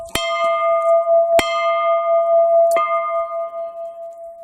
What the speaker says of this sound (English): Hope these people don't mind me ringing their bell.